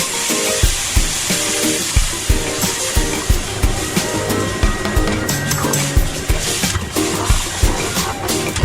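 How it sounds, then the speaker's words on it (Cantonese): Chicken broth poured into a hot clay casserole pot holding garlic, shiitake mushrooms, tofu and fish head, a steady rush of liquid over loud sizzling with scattered clinks throughout. "咁我落啲雞湯"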